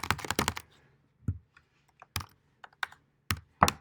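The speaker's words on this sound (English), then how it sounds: "typing some stuff in here" Close, crisp keystrokes on a computer keyboard come in a quick burst of rapid clicks, then scattered single taps and short clusters separated by quiet gaps.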